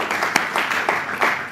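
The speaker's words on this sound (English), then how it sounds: "Can we give Fizz a round of applause?" An audience claps together at a talk, a short burst of applause at moderate loudness with a few sharper individual claps standing out.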